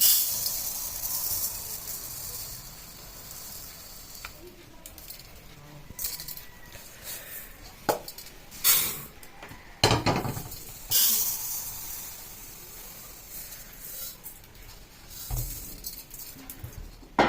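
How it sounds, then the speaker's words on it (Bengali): Dry lentils (dal) poured into a bowl for an idli batter, giving a scattered, rattling hiss of grains in several uneven bursts, moderately close and without talk. "এক বাটি করে ডালটা নিলাম, এবার ঢেলে দেবো"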